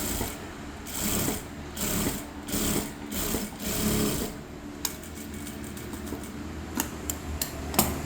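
A sewing machine stitches a blouse lining in uneven bursts of mechanical whirring with pauses, then a few sharp clicks near the end; steady and close, with no talking.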